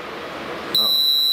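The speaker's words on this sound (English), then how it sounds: "Yes, the alarm goes on." An earthquake alarm detector suddenly starts a continuous, piercing high-pitched electronic beep, loud and close, cutting in after a moment of quiet room hiss.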